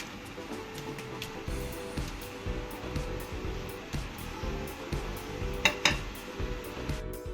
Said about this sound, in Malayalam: എണ്ണ ചൂടായി വന്നിട്ടുണ്ട് നമുക്ക് അരിഞ്ഞു വെച്ചിരുന്ന പാവയ്ക്ക ഇതിലേക്ക് ചേർത്ത് കൊടുക്കാം